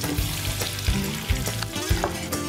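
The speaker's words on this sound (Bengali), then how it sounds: "চিংড়িটা এর বেশি ভাজতে হবে না, চিংড়িটা তুলে নেব" Shrimp and clams fry together in a pan, a close, crackling sizzle punctuated by soft knocks of a spatula stirring against the cookware.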